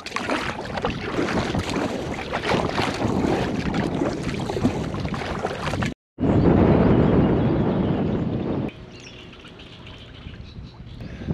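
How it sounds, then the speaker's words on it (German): Kayak paddling on a windy lake near Schwerin in Mecklenburg-Vorpommern, with steady broadband wind and water rush across the first half, a short dropout, then louder close splashing and water noise that eases off. "Also paddel ich erstmal ein Stück."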